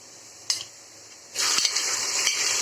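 Marinated chicken mince hits a pan with garlic in a single clatter, then settles into a loud, steady sizzle broken by a couple of stirring scrapes, close by with no voices.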